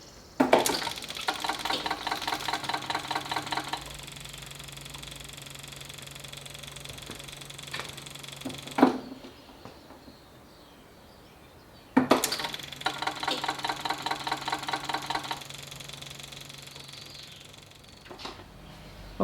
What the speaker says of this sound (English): let's just cycle the key a couple times, let the fuel pump do its thing